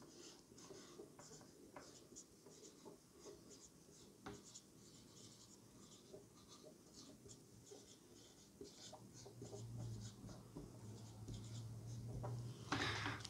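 Marker or chalk writing on a board in a classroom lesson, steady close scratching strokes in bursts across the whole stretch, with a faint low hum rising toward the end and no talk.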